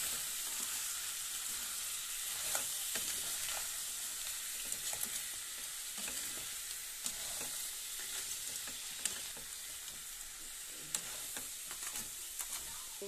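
Salt and turmeric being stirred into curry frying in a pan, a steady close sizzle with scattered scraping taps of the spoon, no talking.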